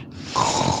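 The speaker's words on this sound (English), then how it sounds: "Quit snoring on your mic" Snoring or snorting breath carried over a gaming headset microphone, a single short rough nasal snort-like noise, close and fairly loud.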